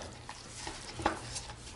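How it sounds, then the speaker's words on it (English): Spicy noodles and vegetables are stirred and mixed in a pan, a short run of soft scraping and clinking with one slightly louder knock near the middle, quiet and close with no talking. "Mix it all up."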